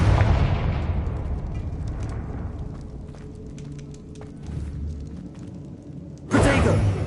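A Confringo fire spell blasts in Hogwarts Legacy on PS5, a loud explosive burst with rumbling low end that decays into a busy combat bed of smaller pops, then a second sharp, loud blast near the end.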